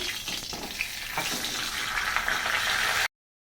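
A large fish head frying in hot oil in a home kitchen, giving a steady dense sizzle and crackle that builds slightly louder before stopping abruptly.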